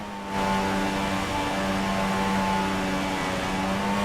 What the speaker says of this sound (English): Feed in the throttle. Let's build the revs.